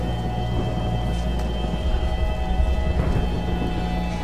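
Heavy rain with thunder in the Tomb Raider video game: a steady, dense downpour hiss over a low rumbling undertone, continuous and without talk.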